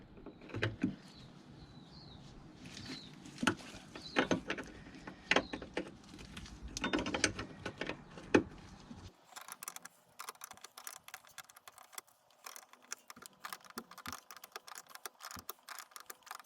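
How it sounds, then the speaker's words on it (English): An 11mm line wrench working the soft brake line fitting on a BMW E87 front brake hose gives a run of close metallic clicks and ratcheting knocks. The texture shifts partway through to a thinner, busier rattle. No one speaks. "we're going to use an 11mm line wrench to undo the brake line itself"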